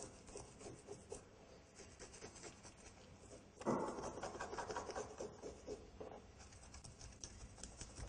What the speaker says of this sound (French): Écailler à la dorade, avec la partie non tranchante d'un couteau, frotter la dorade dans le sens inverse des écailles.